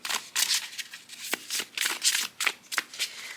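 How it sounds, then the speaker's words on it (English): Riffle shuffle of Rainbow Heart Tarot fifth edition cards with slippery cardstock: several quick crisp fluttering bursts of card edges, close and clear, with short pauses between riffles and no talk. "let's see if this edition riffles well at all"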